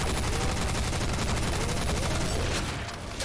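Rapid automatic gunfire in the GZDoom engine for Doom, with dense repeated shots fired in a continuous burst, loud and close, briefly tapering near the end.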